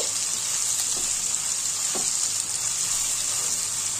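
Chopped tomatoes fry with spices in a pan under a loud, even sizzle, with a couple of soft stirring scrapes near the start. No one speaks.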